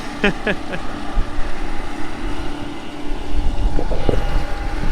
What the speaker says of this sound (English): Coming along there, taking off the tops of the sugar beet, picking them up, and then dropping them into the cage in the back